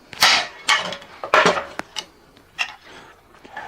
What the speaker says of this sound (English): This hole right here, punch out, give it a nice hard bang.